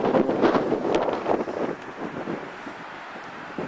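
Steady outdoor wind rushing and buffeting a microphone, loud at first and easing slightly, with no voices.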